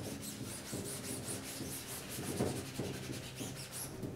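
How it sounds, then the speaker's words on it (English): A rag rubs a thin chemical over dried, tacky ink on a screen printing screen, giving a steady scrubbing swish with rhythmic strokes, close and fairly loud. "I'll use a rag to work it in a little bit."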